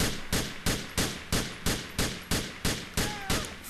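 Rapid, evenly spaced gunshots ring out about three per second, loud and sharp, in a steady burst of gunfire in Grand Theft Auto IV with no talking.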